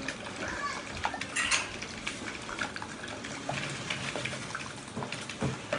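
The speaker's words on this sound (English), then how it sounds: "So what we're going to do is we're going to beat our eggs." Eggs are beaten in a bowl for carbonara, with a fork or whisk clinking and clattering quickly against the dish close by, and people talk over the work.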